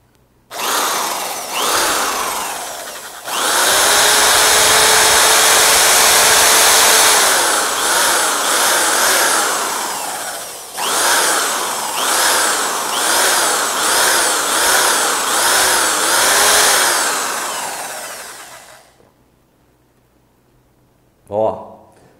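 A power tool whines loudly while polishing the inside and outside of an air rifle cylinder, running in long sustained bursts broken by short pauses, then stopping near the end, followed by a brief final blip.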